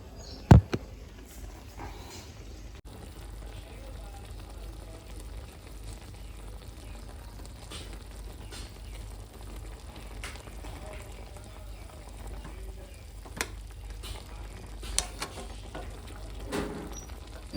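Chicken pieces fry in a pan on a home stove, giving a quiet, steady sizzle with scattered small pops and crackles throughout.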